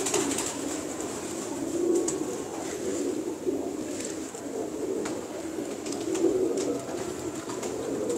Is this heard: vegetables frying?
no